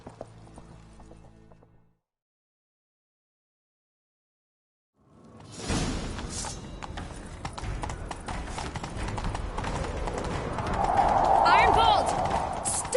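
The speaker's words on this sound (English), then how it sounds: "Grab a horse, we'll chase him down." Horse hooves gallop in The Witcher 3 video game, a steady clip-clop that sets in after a short pause following brief talk and keeps driving loud and close, with a whinny-like tone rising near the end.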